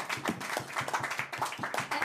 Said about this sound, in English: Applause for the ladies.